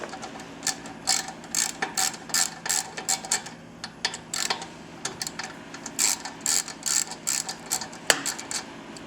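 Hand ratchet loosening bolts on a Victory motorcycle front wheel, quick bursts of close clicking repeated in short strokes with brief pauses between.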